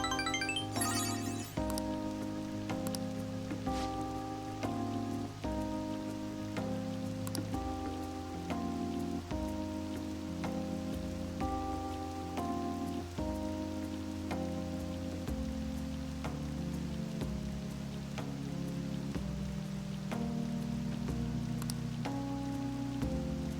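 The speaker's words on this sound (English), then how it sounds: "Rain, huh?" Steady rainfall patters softly in the video game Persona 5 Royal, a constant hiss under a looping melodic music track that dominates the foreground.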